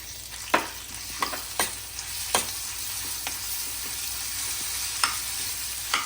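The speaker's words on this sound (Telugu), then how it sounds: "ఇప్పుడు మామిడికే మనం ఉడకబెట్టుకున్నాం కదా అది వేస్తున్నాను" Boiled raw mango stirred into a hot oil tempering for semiya pulihora, a soft continuous sizzle broken by several distinct spoon scrapes and taps against the pan, with no talking.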